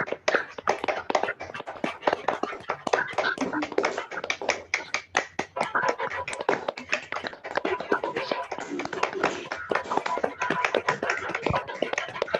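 An audience claps on command, dense rapid clapping from many hands filling the room continuously for several seconds, with brief voices heard underneath.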